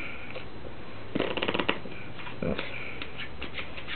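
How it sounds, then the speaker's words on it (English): Brief riffling bursts of a card deck being shuffled, two quick flurries of papery flutter close by against a quiet background. "Shuffle it first."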